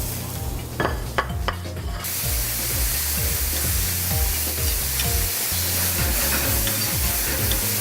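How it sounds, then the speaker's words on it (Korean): Mushrooms and cordyceps sizzle and hiss in a hot pan with a little minced garlic, with scraping stirs at a steady rhythm and a few sharp clacks near the start. "동충하초도 맛있게 볶아줬고요."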